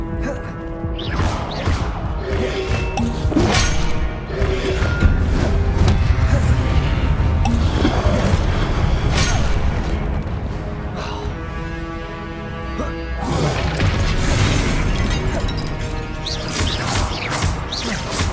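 Confringo explosive spell blasts in Hogwarts Legacy, loud crashing booms and thuds layered over dense battle effects and music, sustained and busy throughout.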